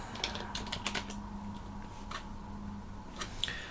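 Typing on a computer keyboard, heard as a quiet, close run of uneven key clicks, with a few louder taps standing out from a faint steady hum.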